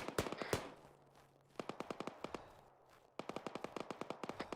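Automatic rifle fire in the Arma video game 130-player team battle, sharp evenly spaced bursts of shots separated by short pauses, loud and close with a faint echo.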